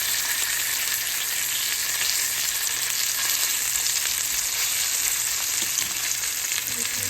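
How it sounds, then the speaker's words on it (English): A dry-aged ribeye steak sears in butter in a hot pan, a loud, continuous, even sizzle and crackle heard up close for the whole stretch, with no voices over it. "I'm going to flip it over. Get a nice good crust on both sides."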